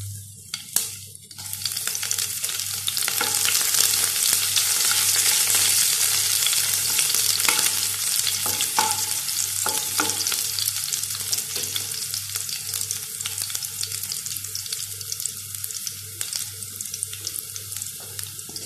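Ginger and green chilli stir-fry in hot oil for pineapple chutney, a loud, dense, hissing sizzle that swells early and holds steady, with a few scrapes and a low hum underneath.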